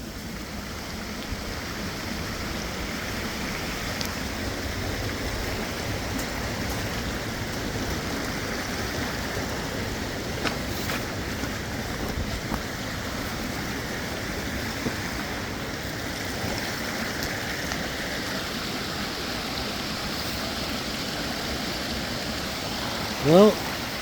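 A waterfall beside a Lake Superior hiking trail rushes in a steady, loud broadband roar that fills the whole stretch, with faint footsteps or handling noise and a brief bump at the end.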